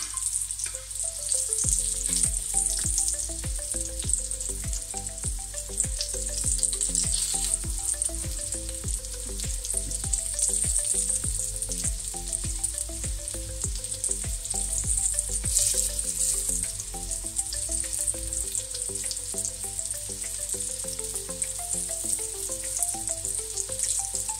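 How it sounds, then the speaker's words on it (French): Meatballs fry and brown in a pan with a steady, loud sizzle throughout, marked by frequent crackles and pops, while tonal background music plays underneath. "Alors ça commence à dorer là, regardez. Donc là je les retourne."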